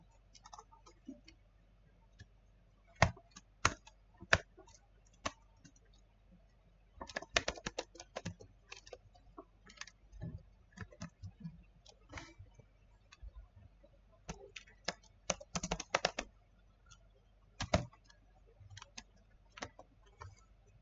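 Fingers tap on a computer keyboard in irregular bursts of quick clicks, with clusters of keystrokes separated by pauses, close and fairly soft, with no talking.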